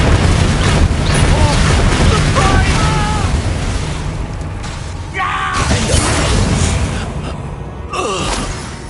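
An Incendio fire spell cast in a wizard video game bursts out in loud booming whooshes, layered over a dense, busy soundtrack of game music, effects and voices.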